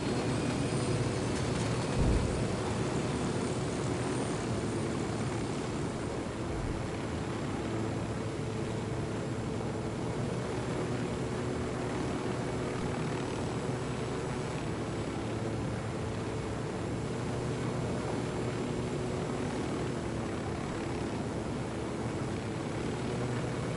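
An aircraft in flight in the video game Ghost Recon Wildlands, a steady broadband engine drone holding evenly throughout, with a brief thump near the start.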